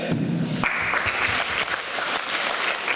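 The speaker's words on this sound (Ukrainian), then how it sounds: "Вам шалені оплески за всі ці зусилля." Steady applause from a crowd, dense clapping filling the room at an even, sustained level throughout.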